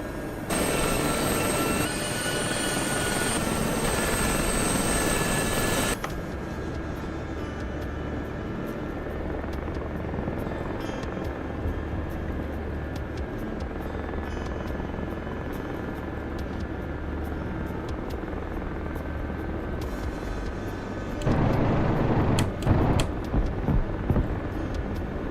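A Gazelle helicopter in a video game flies with a steady, continuous rotor and engine drone that stays loud throughout, shifting in tone partway through and swelling again near the end.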